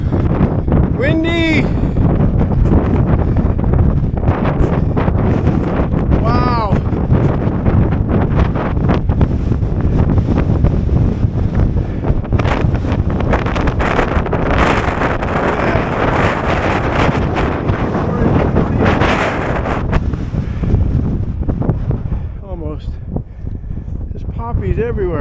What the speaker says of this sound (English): Super windy up here.